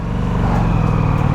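2024 Ducati Diavel V4 engine pulling away from a stop at low revs, a close, deep, evenly pulsing exhaust burble that stays steady for a moment, no talk over it.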